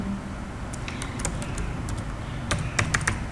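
Rapid, uneven clatter of keystrokes on a computer keyboard while typing a document in Microsoft Word, clustering in short bursts with a few louder taps near the end, close and alone over a quiet room hum.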